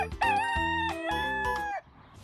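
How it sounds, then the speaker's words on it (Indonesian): A rooster crows once, close and clear, in a drawn-out multi-part call lasting nearly two seconds, ending abruptly into quiet. "ini ada ayam jago"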